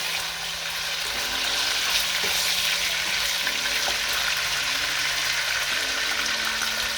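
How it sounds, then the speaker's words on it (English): Beef searing in a pot on the stove, a steady moderate sizzle with occasional stirring scrapes and a low background hum, no voices. "You can see the beef is seared already."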